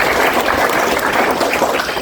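Loud, dense applause from a large school camp audience, a continuous roar of clapping with no speech.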